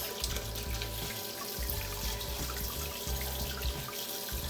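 Tap water runs steadily into a sink while a raw chicken breast is rinsed under it. The flow is soft and continuous, with small splashes and drips breaking it up, and no one speaks.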